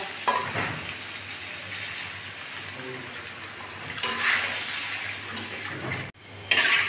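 Water poured into spice paste frying with turmeric for a koi fish curry sets off a loud hiss and bubbling sizzle, with stirring scrapes and a brief drop near the end before it surges again.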